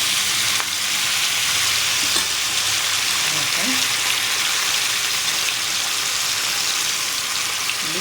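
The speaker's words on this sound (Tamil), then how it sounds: "இந்த நெத்திலி மீனை இப்போ நான் இதில் பொரிக்க போகிறேன்" Anchovies deep-frying in hot oil, added one by one, a loud, steady crackling sizzle close by, with faint clinks of a utensil now and then.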